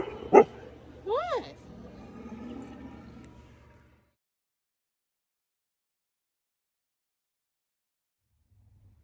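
Husky dogs close by let out a single sharp bark followed by a quick run of rising, yodel-like yips, with some low talk beneath, then everything falls silent for several seconds.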